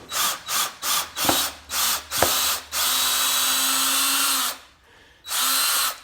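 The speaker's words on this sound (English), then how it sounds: "Drill set to low speed" A power drill set to low speed whirs in short bursts, several quick pulses followed by a longer steady run, a brief pause, then another sustained spin, while building a small back door deck.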